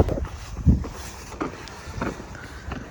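Strong wind buffeting the microphone on the summit of Mount Merbabu, gusty low rumbling bursts that rise and fall, close and fairly loud with no talk.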